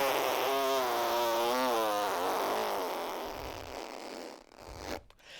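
A voice imitates a long, drawn-out fart, a loud wavering buzzy blast lasting several seconds that slowly fades and breaks off into a few short sputters near the end.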